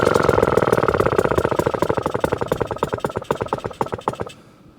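A kick-start Atco Midget lawnmower with a Villiers engine idles nearby, a loud fast chugging beat that gradually slows and fades as it winds down, then cuts out.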